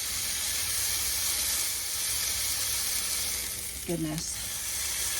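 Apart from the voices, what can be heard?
lion's mane mushrooms sizzling while frying in a pan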